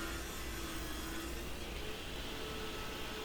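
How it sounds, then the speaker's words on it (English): A table saw runs through a wooden end-grain cutting board, producing a loud, continuous whirring and grinding roar with a steady motor hum that holds for the whole stretch, close by and without speech. "I moved over to the table saw to straighten the sides of the board."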